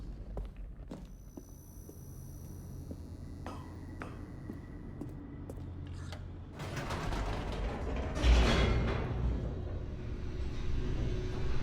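An elevator in the game The Stanley Parable moves with creaking, clanking machinery and scattered metallic clicks, swelling into a louder rumbling grind in the second half.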